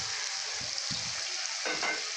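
Spice paste for a mustard-poppy seed pomfret curry hits a hot wok, giving a steady close sizzle with a few soft clunks of a bowl and spoon, no voices.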